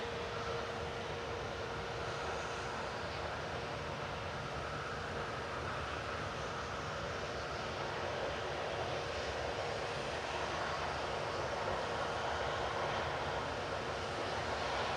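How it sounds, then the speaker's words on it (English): An easyJet Airbus A320neo departs Manchester Airport for Barcelona, its engines giving a steady, broad roar that holds at a constant level throughout, fairly distant and with no talk. "EasyJet 2001 to Barcelona going next."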